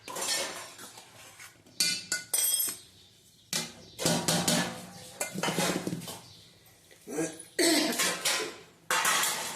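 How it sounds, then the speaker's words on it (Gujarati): Semolina and rice flour are mixed in a metal bowl for dhokla batter, producing irregular bursts of clinking and scraping from a spoon against the bowl, separated by short quiet gaps. "હવે એને સારી રીતે મિક્સ કરી લઈએ રવો અને ચોખાનો લોટ"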